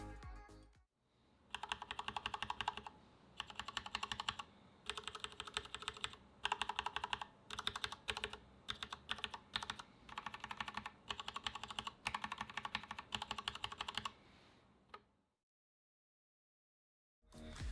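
Steady typing on a Corsair K70 RGB TKL mechanical keyboard, dense rapid keystrokes in bursts with brief pauses, close and clear, ending in silence near the end.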